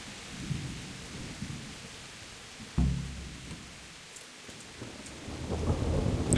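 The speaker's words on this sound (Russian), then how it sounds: "Похер то, что дождь льет." Rain and thunder in the medieval role-playing game Kingdom Come: Deliverance: steady rainfall with a loud rolling thunderclap near the middle, rumbling on as the storm builds again toward the end.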